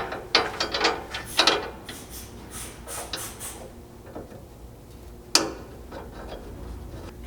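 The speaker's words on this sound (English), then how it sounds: "Then we can grab our 5/16 hex to tighten these in place" A 5/16 hex ratchet clicks in quick bursts while tightening skid plate bolts on a 100 Series Land Cruiser, with several close runs of pawl ticking, pauses, and a sharp metallic knock near the end.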